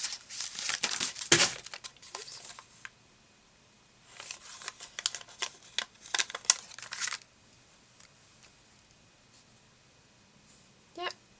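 A sticker is peeled and pressed onto a paper journal page, with bursts of crinkly backing-paper rustling and tapping that come in two clusters and then a brief final crinkle, close and fairly quiet.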